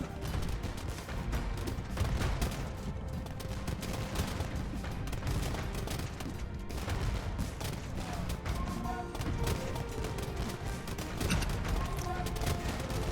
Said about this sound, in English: cannons are quite nice as well because they will target whatever units are nearby by default